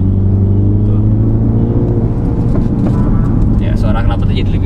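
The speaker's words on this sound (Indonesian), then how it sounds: "Ya, suara knalpotnya jadi lebih bagus." A Mini Countryman John Cooper Works with sport mode engaged, its exhaust giving a steady low drone and rumble throughout, with a slight rise near the end, while people talk over it inside the car.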